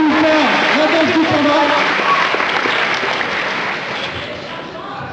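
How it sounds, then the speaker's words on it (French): Convention crowd applauding a performer's panda dance at a manga festival conference, steady dense clapping filling the room, with voices and shouts mixed in over it before it eases slightly. "Donc, on va l'applaudir."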